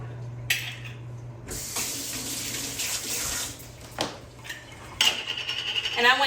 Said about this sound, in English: I'm going to empty my cherries here,